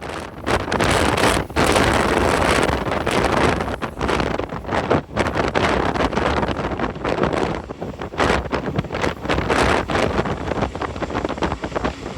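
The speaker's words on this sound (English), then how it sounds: "The wind was still blowing hard, which you can see and hear moving my phone around." Strong, gusty wind in the Columbia River Gorge buffets a handheld phone microphone, producing a loud, continuous roaring rumble that surges and dips without pause.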